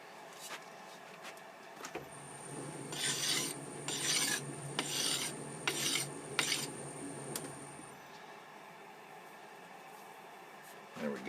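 A hand file rasps against the outer edge of a metal three-jaw chuck jaw on a Sheldon lathe. It makes about five close, rhythmic strokes over several seconds, and no one speaks.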